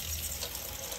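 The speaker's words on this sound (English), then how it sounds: "It shoots out the water on the sides and it creates this flow like a little shower." Water streams from a sink faucet through a toothpaste-cap flow aerator, a soft, even hiss of spraying water lasting about a second.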